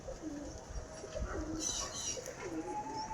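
Pigeons coo softly in repeated low rolling calls, a female Fulshira among them, with a faint background hiss and a higher chirp near the end.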